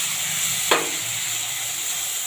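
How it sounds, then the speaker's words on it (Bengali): Ginger, onion, garlic and chili paste fries in a pan, giving a steady close sizzling hiss with one brief clattering stir partway through. "আদা পেঁয়াজের যতক্ষণ না কাঁচা গন্ধটা যাচ্ছে আমি ভেজে নেবো।"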